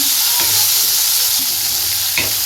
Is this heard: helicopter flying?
no